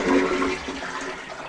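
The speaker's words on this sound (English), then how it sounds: "you wash your hands in the fresh water that's filling the bowl," A household toilet flushes in a small apartment bathroom, a loud rushing gush of water that settles into a steady refill hiss as the bowl fills, with no talking.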